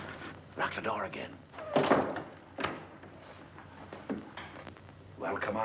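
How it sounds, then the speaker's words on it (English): A door is locked and shut in an old crime film, a few solid thuds and clicks sounding close by while people talk throughout. "Lock the door again."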